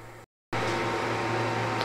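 A laser engraver's head travels around the edges of a 409 mm square work area while framing, giving a steady low motor hum with a faint fan-like hiss. The hum is briefly interrupted by a quarter-second gap.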